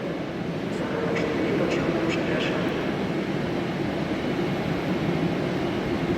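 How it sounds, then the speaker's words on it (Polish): Train at Łódź Widzew station, with a steady low rumble of the train pulling away after its doors close and faint higher tones above. "usłyszałam pewien dźwięk, który widzę również zamykające się drzwi. Tak, to już teraz. Pociąg zaraz odjedzie."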